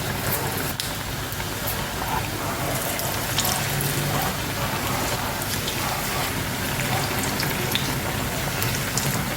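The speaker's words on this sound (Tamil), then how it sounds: "எண்ணெய் காஞ்சிடுச்சு வச்சு போட்டுக்கலாம்" Bhajji fry in hot oil with a dense, loud, unbroken bubbling crackle that stays even from start to finish, with scattered sharper pops.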